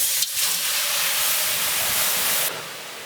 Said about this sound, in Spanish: se genera el vapor y cierro